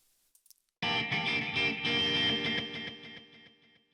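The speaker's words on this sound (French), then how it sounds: "Vous entendez le delay qui continue." A processed guitar-like chord in Studio One starts abruptly and rings with a delay and reverb tail that keeps repeating and slowly fading over a few seconds, alone and fairly loud.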